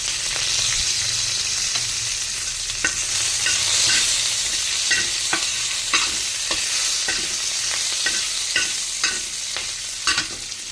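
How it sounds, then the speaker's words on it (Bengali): Green chillies, mustard seeds and curry leaves crackle and sizzle in hot oil for a fish curry, a steady close frying hiss broken by sharp pops and spatters, with occasional stirring scrapes and no voices. "একটু তেল আছে ওর মধ্যে কাঁচা পাকা দুটো লঙ্কা দিয়ে দিলাম তারপরে সর্ষে কারি পাতা"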